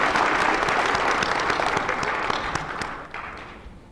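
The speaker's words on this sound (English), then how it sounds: "let us give you a round of applause." A crowd applauds steadily at a college gym grand opening, dense clapping filling the space and slowly thinning toward the end.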